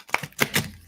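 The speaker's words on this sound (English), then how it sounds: "Okay, one more deck for me to shuffle." A few quick papery riffling bursts, close and crisp, each lasting a fraction of a second, as an oracle card deck is shuffled together.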